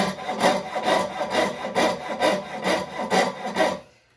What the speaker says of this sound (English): The whole time I'm using the saw, I'm only looking at one place, and that is where the saw meets the wood.